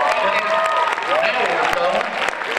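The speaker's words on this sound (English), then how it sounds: "Let's hear one more applause for them." An audience at a Pittsfield community event applauds for Shirley Edgerton and Eddie Taylor, a sustained wash of crowd clapping with overlapping voices and whoops mixed in.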